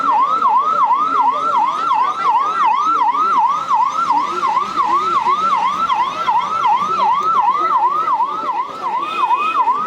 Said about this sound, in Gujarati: પોલીસવાળાની જ ગાડી છે કે જે રસ્તો પબ્લિક ના આપે તે બદલ પોલીસ સાયરન વગાડે છે